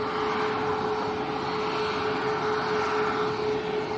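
A Ryanair Boeing 737 MAX 8 bound for Madrid at Lanzarote Arrecife Airport gives off a steady jet rumble with a clear, constant whine riding on top, moderately loud and unchanging over a few seconds.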